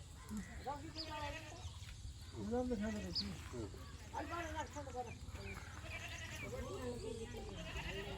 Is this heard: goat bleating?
yes